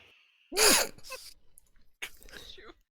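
A single sharp, loud sneeze bursts out close to the microphone, followed by a short breathy aftersound and a quieter vocal murmur.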